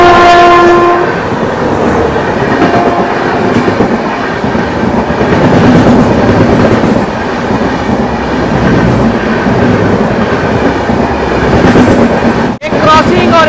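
The Shatabdi Express passes close by on an Indian railway line, a loud, steady roar of wheels clattering over rail joints, with horn tones sounding early on and people talking faintly underneath.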